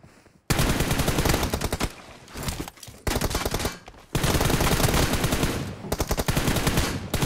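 Rapid automatic gunfire in an online team deathmatch shooter, loud and sustained bursts with short pauses between them, no voices over it.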